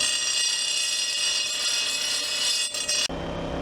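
A bent lawn mower blade ground on its underside to flatten the tip, a loud continuous harsh grinding whine that cuts off abruptly near the end.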